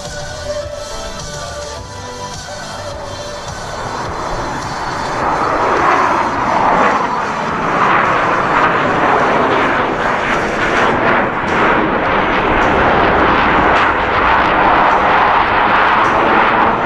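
US Navy Blue Angels F/A-18 Hornet jets fly the Diamond Dirty Roll at the New York International Air Show, a loud, continuous roaring jet engine rumble that builds and sustains overhead without pause.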